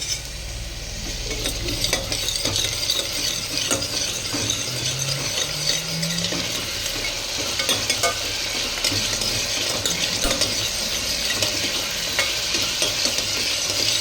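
Mutton frying in a pan while being stirred, a dense continuous sizzle with repeated scraping and rattling strokes of a spoon throughout.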